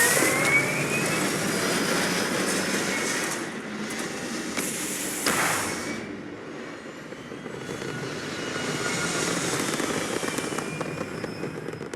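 A spacecraft lifts off with a loud, continuous engine roar that swells and rumbles steadily for about twelve seconds, alone with no voices over it.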